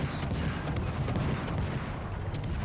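Warship naval guns in World of Warships Legends, from the ship Colbert, roar in a dense continuous barrage, loud and close, with rapid booming shots layered over one another.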